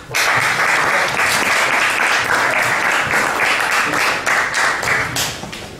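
An audience applauds steadily at a poetry award ceremony in Belgrade, a dense, sustained wash of many hands clapping at close range that holds for the whole stretch and thins slightly at the end.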